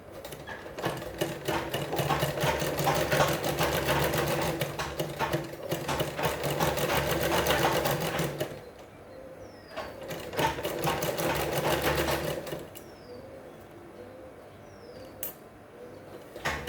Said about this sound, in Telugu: ఇది ఇలాగా కాలర్ చుట్టూ స్టిచ్ వేసేసుకుందాం అండి.